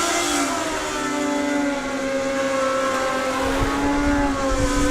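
A drag racing motorcycle runs down the strip at a summer nationals meet, its engine a loud, sustained high-pitched roar with shifting tones that holds steady throughout, heard without any talking.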